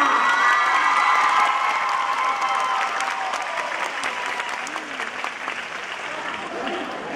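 Fan club audience applauding and cheering in a theatre at an anniversary event, sustained dense clapping with shouts and excited voices mixed in, loud and steady before gradually thinning.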